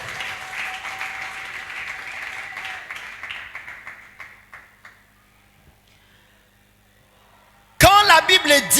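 Church seminar audience applauding and cheering for Jesus Christ, a dense wash of clapping that gradually thins and fades to near silence, then a loud burst of another sound at the end.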